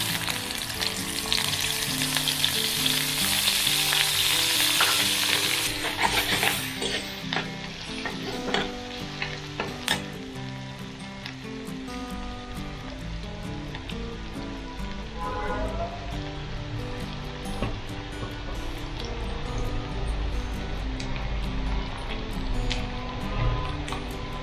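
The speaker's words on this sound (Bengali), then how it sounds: "আমি তেলে দিয়ে দিচ্ছি।" Chopped onion, local garlic and five green chillies sizzle and fry steadily in hot oil, a loud continuous crackle with occasional stirring clatter, close up and without talk.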